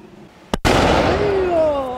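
A firework lit with a lighter bursts outdoors with a sharp, loud bang, followed by a sustained crackling hiss and whistle that fades slowly.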